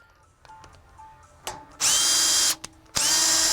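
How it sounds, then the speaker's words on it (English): A power drill spins in reverse, pulling a Maxis Max Punch cutter through to make a half-inch hole, two loud sustained whirring bursts after a few light clicks and taps. "now you take your drill, you put it in reverse."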